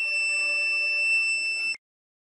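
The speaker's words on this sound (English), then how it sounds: "Buzzer produce sound when detect heat around sensor thermistor." A breadboard heat detector circuit's buzzer, driven by a thermistor sensor and NPN transistor, sounds one loud, steady electronic tone for nearly two seconds before cutting off abruptly into silence.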